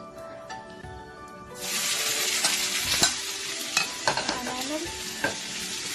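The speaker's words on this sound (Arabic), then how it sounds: "الزيت عندنا سخن، زيت زيتون سخن، هنزود عليه البصل" Chopped onions hit hot olive oil with a sudden loud hiss, then sizzle steadily while being stirred with scraping clacks, close up and without speech.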